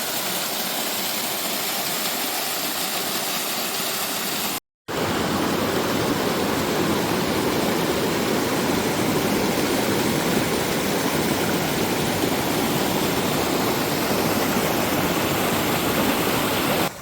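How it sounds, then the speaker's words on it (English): A small waterfall in the Coromandel Forest pours with a steady broadband rushing roar, close and constant, with a brief cut near the start and no voices. "there's a little waterfall"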